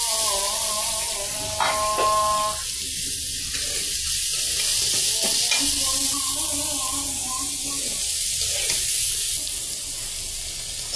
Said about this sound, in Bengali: আমার পেঁয়াজটা ভাজা হয়ে গেছে, এখন আমি শাকগুলা দিয়ে দিব।